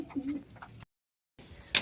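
Domestic pigeons in a rooftop coop, one pair nesting on eggs, give a brief cooing call near the end, after a short silence and some earlier low murmuring.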